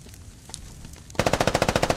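Rapid automatic gunfire bursts out in the Squad military shooter game, a dozen evenly spaced loud shots following a quieter stretch of distant scattered fire.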